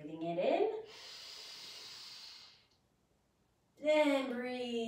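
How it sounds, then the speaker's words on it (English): A long, airy inhale hisses steadily for about two seconds during a children's yoga breathing exercise. It comes between short bursts of an adult voice, and a brief silence follows before the voice returns. "Breathing it in."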